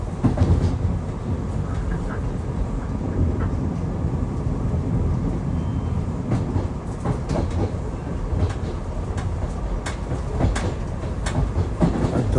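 SEPTA commuter train on the Amtrak line between Philadelphia and Wilmington, Delaware, riding the rails with a steady loud rumble and rhythmic clickety-clack of wheels heard from on board.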